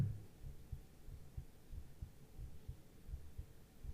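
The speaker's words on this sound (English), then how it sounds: "I can hear my own heartbeat through the stand" A heartbeat picked up through a microphone stand resting on a chest, heard as a steady run of soft, low, muffled thumps under a faint hum, close and quiet with no talking.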